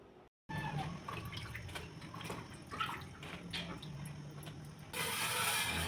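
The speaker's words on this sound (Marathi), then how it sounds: "सुरुवातीला मी भेंडी स्वच्छ धुवून घेते" Fresh okra is rinsed clean in water, with quiet sloshing and dripping, then a louder rush of running water at the end.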